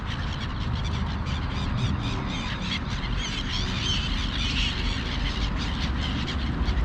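Gulls cry and squawk at an evening feeding, overlapping calls rising over a constant low rumble of outdoor background noise, fairly distant and continuous without speech.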